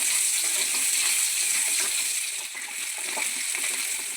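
Fennel seeds sizzling in hot oil in a pan while cooking Kerala-style kappa biryani, a steady, bright frying hiss with crackly spatter throughout, close and fairly loud, no talking.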